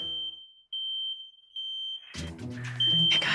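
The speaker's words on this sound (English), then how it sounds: "I guess this is the alarm sounder." A household smoke alarm sounded to wake children shrills in loud, sustained high-pitched beeps broken by short gaps, with bursts of shuffling and rustling noise joining partway through.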